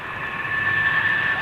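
RwandAir Airbus A330 jet at Heathrow Airport, a steady broad roar of engine noise with a thin whine on top, heard at a distance beneath someone talking.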